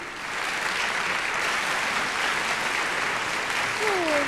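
Steady applause from a theatre audience at the Sanremo song festival fills the space, an even, moderately loud wash of clapping that holds throughout with little variation.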